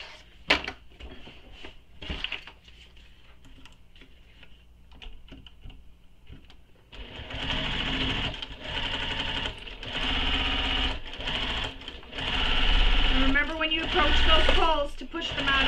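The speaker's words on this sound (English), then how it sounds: "we'll stitch this together using the seam allowance given in the pattern" A sewing machine runs in bursts stitching a backpack seam, fast mechanical rattling that grows louder in the second half, after earlier scattered clicks and handling of fabric.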